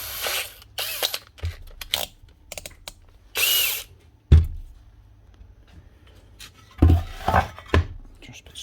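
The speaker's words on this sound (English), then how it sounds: "you have to drill these out to clear an M4. So a 4mm drill bit will do the job" A 4mm drill bit bores out the countersunk screw holes in the base of a Makita RP2303FC router, in short loud bursts of drilling separated by pauses and light clatter of handling.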